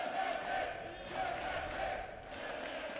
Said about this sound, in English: Calls for Fnatic coming in strong from the crowd.